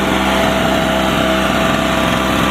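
A Harbor Freight 900-watt, 63 cc two-stroke generator engine runs with a loud, steady, buzzing drone close by, unbroken and with no talk.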